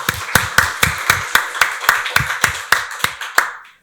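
A church congregation at a Sunday worship service claps in a steady, even rhythm, each sharp clap close and distinct, with no talk over it.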